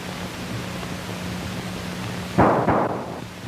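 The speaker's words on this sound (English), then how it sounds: "That sure sounded like shots." Gunshots in the low-budget film Manos: The Hands of Fate, two quick sharp bursts near the end rising out of a steady hiss of background noise, fairly close and brief.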